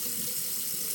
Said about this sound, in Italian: adesso sciacquo un attimo il viso per avere un minimo di